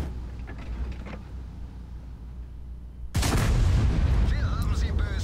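A World of Tanks HE tank cannon goes off as a sudden loud blast about three seconds in, after quieter engine rumble and ambient game noise, followed by sustained dense battle noise and rumble.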